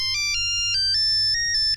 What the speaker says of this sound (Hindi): पापा फोन बंद कर दीजिए प्लीज।